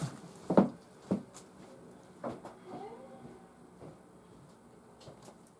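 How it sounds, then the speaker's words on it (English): A kitten meows a few times indoors, short moderately loud calls with quiet gaps and light room noise between them. "One of my kittens was meowing"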